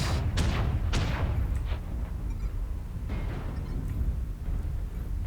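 Mech weapons firing in the game Mechwarrior Online, a run of heavy booming shots over a constant low rumble, several sharp blasts in the first two seconds and more later.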